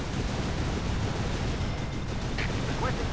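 A loud, sustained rumbling roar of a tower explosion in the video game Mercenaries 2, broad and noisy throughout with no speech over it.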